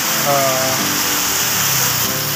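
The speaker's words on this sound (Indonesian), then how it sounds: "Ini hujan besar." Heavy rain pours down in a steady, loud, dense hiss that fills the whole clip, while someone talks over it.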